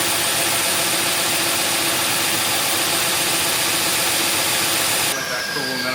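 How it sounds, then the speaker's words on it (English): Belt sander grinding a Thai-built turbo flange flat, a steady loud broadband roar with a constant whine that runs unbroken for about five seconds before the tone shifts as the contact eases. "I'm going to sand this flange on this big belt sander that Reuben's got."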